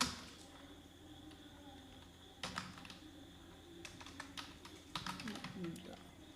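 Rapid, irregular key clicks as a name is typed on a computer keyboard during Photoshop work, close and fairly quiet, with clusters of faster taps and brief pauses over a low background hum.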